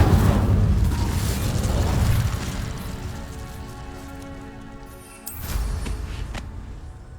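The Incendio fire spell cast in the game Hogwarts Legacy bursts as a loud, deep whoosh of flame. It fades into a crackling, rain-like hiss, then a brief swell of roaring fire comes near the end.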